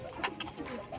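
Soft, low pigeon coos repeat in a brief murmuring run, close by, with a faint background hum.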